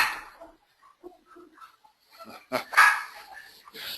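Several dogs barking somewhere in the background, scattered yips and barks that build into a louder cluster of barking toward the end, with no talk over them.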